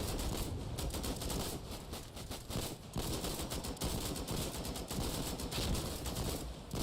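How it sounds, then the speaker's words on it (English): Rapid, sustained gunfire in the war game Foxhole, dense bursts of automatic shots laid down as covering fire, loud and continuous through the whole stretch with only brief dips. "Laying covering fire, boys."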